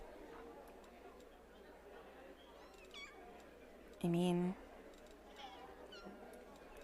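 Cats meow in the video game Pathfinder: Wrath of the Righteous, one clear half-second meow standing out over soft game ambience, light clicks, and a quiet voice talking.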